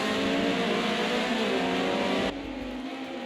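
BMW 2002 StanceWorks Edition race cars roar loudly past at Oschersleben in a racing video game, a dense engine drone that cuts off abruptly near the end, leaving a lower rumble.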